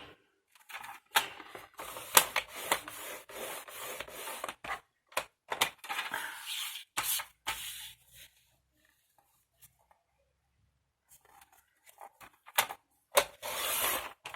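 Paper card for scrapbooking being scored along a fold line and trimmed with a cutter: bursts of dry scraping, sliding and clicking, a quieter pause in the middle, then more rustling near the end, fairly close and soft.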